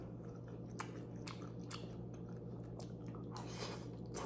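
Someone eating a mukbang meal of ginisang upo with shrimp and rice, with chili added: soft close chewing and bites, a few crisp broadband clicks and light utensil taps over a steady low hum.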